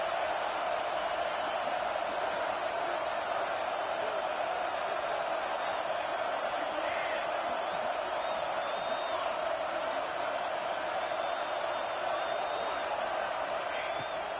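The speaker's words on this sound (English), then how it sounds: "the Buckeye crowd alive on third down" Ohio State Buckeye football crowd roaring on third down in a packed stadium, a steady dense wash of cheering and whooping that holds loud and unbroken throughout.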